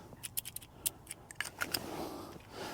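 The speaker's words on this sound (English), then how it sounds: "we have a pair of scissors." A pair of scissors is handled close up in a quiet room, giving several sharp metallic clicks and snips in an uneven series.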